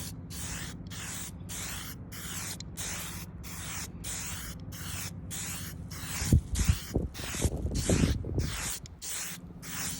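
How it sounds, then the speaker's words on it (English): Rapid bursts of hissing spray paint on a guitar body, pulsing on and off in quick, even succession, close and steady throughout. "Listen to that spray."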